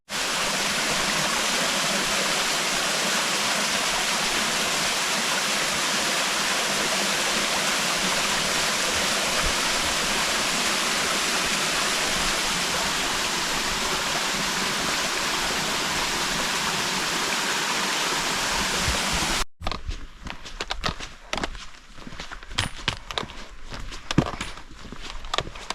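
The 25 Fontes waterfall on Madeira, 30 metres high and fed by numerous springs, roars as a loud, steady broadband rush for about twenty seconds before cutting to quieter trail sounds with footsteps.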